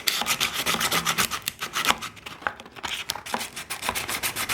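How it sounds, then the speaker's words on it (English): Hand sanding a piece of plexiglass Lexan for a cracked Maytag washer lid repair, quick rhythmic back-and-forth scratchy rubbing strokes, close and continuous with brief pauses. "I'm going to sand one side of this plexiglass Lexan stuff"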